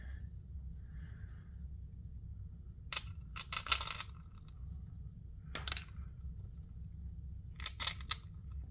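Screws dropped one at a time into landing gear plates for a drone assembly, making three or four sharp, close metallic clinks spaced a second or two apart over a low, quiet background hum.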